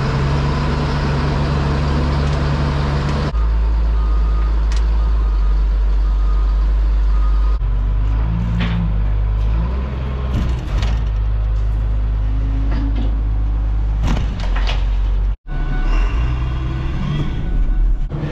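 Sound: old dump truck reversing and unloading

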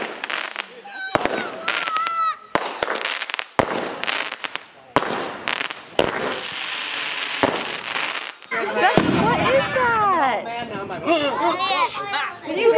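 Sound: fireworks exploding

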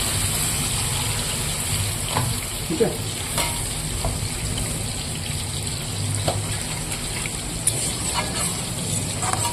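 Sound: pouring water into the cooking pan

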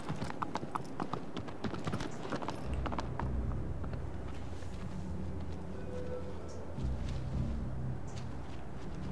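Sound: horse hooves clip-clop in Shadow of the Colossus video game

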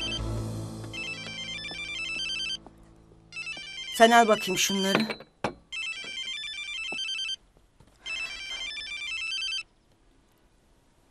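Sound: telephone ringing

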